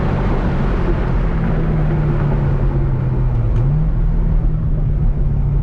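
A stock Corvette C6 Z06 at a drag strip with its tires spinning, giving a loud, steady engine roar held at an even pitch with a brief dip near the end.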